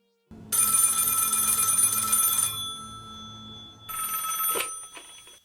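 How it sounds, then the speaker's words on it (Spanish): An office telephone in a FNAF fan horror game rings loud and alone in sustained electronic bursts, a long ring, a pause, then a second shorter ring. "momento en que el teléfono de la oficina suena"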